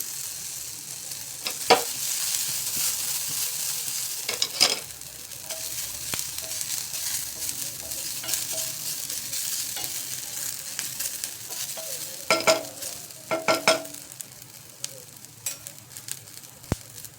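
Tomato and sesame seeds fry in a pan, giving a continuous close sizzle broken by louder scraping strokes from stirring, most dense toward the end, with no talk.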